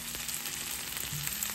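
Onions fry hard in a pan over high heat for a crispy, colored finish, producing a steady dense sizzle with an occasional soft clink, close and loud.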